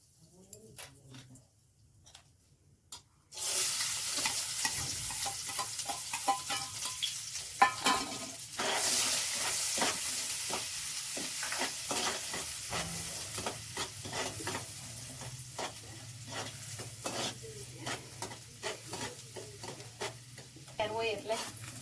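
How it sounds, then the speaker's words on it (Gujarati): A spice mix with hot chilli seeds, onion and coriander hits hot oil in a pan with a sudden loud sizzle, then keeps frying steadily with stirring scrapes and small pops for a long stretch, close to the microphone. "હાલો હવે મસાલો વઘારી નાખી."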